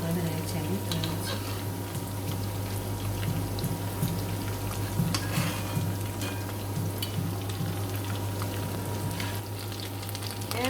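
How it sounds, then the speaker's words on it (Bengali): Bangladeshi-style fish cutlets deep frying in oil, a loud dense crackling sizzle that runs steadily throughout with a low constant hum beneath. "এভাবে লাল করে ভেজে নিচ্ছি আমি, তুলে নিচ্ছি।"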